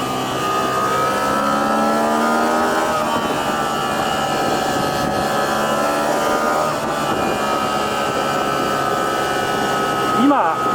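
Honda XL750 Transalp motorcycle held in second gear at around 8000 rpm gives a loud, close, sustained high-pitched engine whine that rises and dips slightly as it revs while riding.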